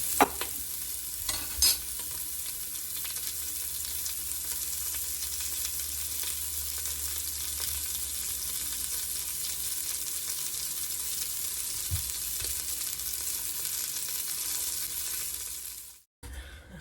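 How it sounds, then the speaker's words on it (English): Onions fry in oil as they are browned, giving a steady close sizzle with a few stirring scrapes near the start, then cutting off abruptly near the end, with no talk. "Put those onions in there. Give them a little bit to get that oil on them. We're just kind of gonna brown those a little bit."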